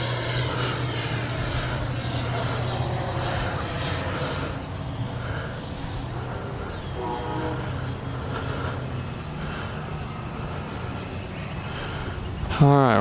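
An E-flite Viper 90mm RC jet whooshes as it flies and climbs, a steady turbine-like roar that fades as it pulls away, with someone talking over it.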